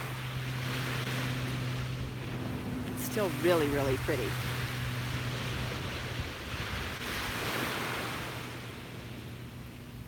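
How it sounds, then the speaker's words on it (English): Small, gentle waves wash steadily onto a Gulf of Mexico beach, a soft continuous surf under light wind with a low steady hum, while someone speaks briefly over it. "so we get much smaller waves"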